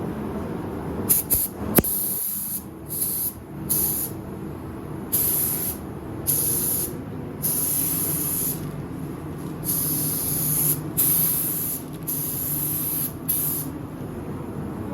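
Light dust coat of spray paint on an RC car shell, a series of close hissing bursts of varying length with short pauses between them.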